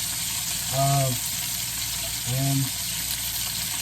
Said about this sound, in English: But listen to that sizzle.